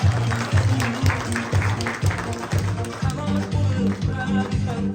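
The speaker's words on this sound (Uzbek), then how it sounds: "Olqishlab qo'yamiz birgalikda." An audience at a family celebration claps steadily for several seconds, a dense, sustained patter of many hands with voices mixed in underneath.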